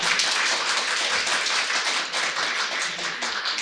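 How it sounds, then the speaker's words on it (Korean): A ceremony audience at a university launch event claps steadily and loudly, a dense wash of hand claps with no voices over it. "객석에 계신 청중 여러분들께서도 다시 한번 큰 박수 부탁드립니다"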